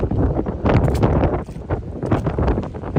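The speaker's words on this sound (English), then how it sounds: "A lot more wind up here." Strong hurricane wind from Hurricane Ian buffets a microphone on an open rooftop with no canopy, a loud continuous roar with gusty surges and rustling, steady throughout with no talking.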